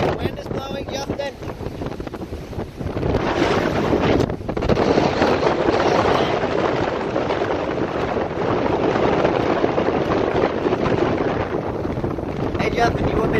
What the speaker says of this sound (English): The wind is blowing, Justin.